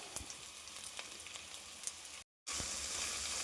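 Green chili and curry leaves sizzle steadily in hot oil while a Kerala prawn curry is cooked, a continuous crackling hiss with occasional sharper pops and a brief moment of silence.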